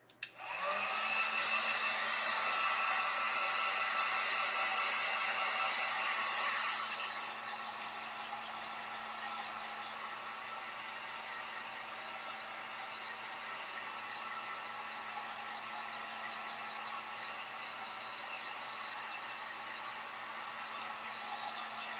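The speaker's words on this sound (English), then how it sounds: "And then I'll also take my heat gun" A heat gun blows hot air to dry pieces of a cross and tassel craft garland, a steady close whoosh that runs louder for the first seven seconds and then settles into a quieter continuous hum.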